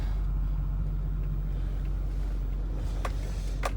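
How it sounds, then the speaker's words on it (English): A Ford 6.4 Powerstroke diesel truck drives along, giving a steady low engine rumble and road drone from inside the cab throughout, with a couple of faint brief clicks near the end. "Go ahead and give it a drive and listen to the truck and see what it's doing."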